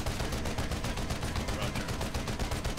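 Rapid, sustained fire from a Liberator gunship's nose gun in the game PlanetSide 2, a dense, loud stream of shots pulsing steadily throughout with no gaps.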